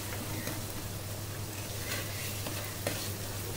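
A crushed ginger and tamarind mixture is stirred in a pan, soft scraping strokes and a light sizzle over a steady low hum, with a few sharper clicks of the spoon against the pan.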